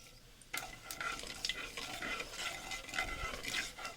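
Nigella seeds sputter in a small amount of hot mustard oil for pointed gourd curry, a sudden crackling sizzle that bursts in after a quiet start and keeps popping and hissing close by, with no talking.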